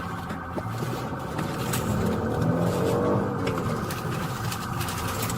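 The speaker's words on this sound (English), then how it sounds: "The car chase went on for a while before the car thief decided the vehicle wasn't worth it." A car being driven during a police chase after a stolen vehicle, a steady mid-level engine drone that swells slightly in the middle and holds without any talk.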